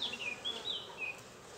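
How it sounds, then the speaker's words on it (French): Honeybees hum softly at an open beehive, a thin wavering buzz that rises and dips as insects pass near, faint and brief with no voices. "Mademoiselle l'abeille."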